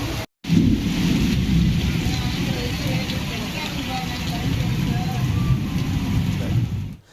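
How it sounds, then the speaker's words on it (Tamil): A heavy thunderstorm over Paramakudi brings a loud, dense roar of pouring rain with low rumbling thunder, holding steady for several seconds after a brief break. "பரமக்குடி மற்றும் அதன் சுற்றுவட்டார பகுதிகளில் இடி மின்னலுடன் 1 மணி நேரம் கனமழை கொட்டியது"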